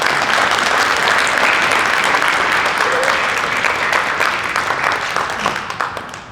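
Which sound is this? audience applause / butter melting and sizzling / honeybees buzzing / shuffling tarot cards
audience applause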